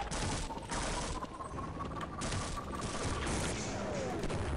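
Rapid automatic gunfire bursts from the Half-Life game, a dense continuous volley with clattering impacts and a faint tonal hum running underneath, loud and sustained throughout.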